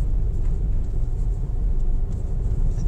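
A 2024 GAC Emzoom GS3 climbs uphill at quarter throttle below 2,000 RPM, producing a steady, loud, low engine rumble heard from inside the cabin.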